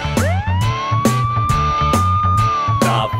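A police car siren in a kids' song rises in a long, loud wail, set over a bouncy rhythmic beat with regular percussive hits.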